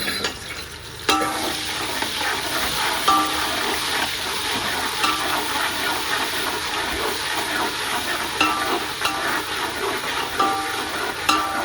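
Ginger garlic paste, two spoonfuls, frying and being stirred in a pot while cooking mutton biryani, giving a steady, fairly loud sizzle with scraping stir noises and no talk.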